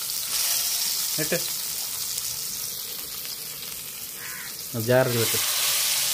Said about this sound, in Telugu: ఓకేనండి, చేపలు బాగా ఫ్రై అవుతా ఉన్నాయి.